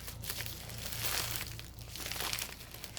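Packaging is crinkled and torn open close by, with continuous crackling plastic rustles over a low background hum.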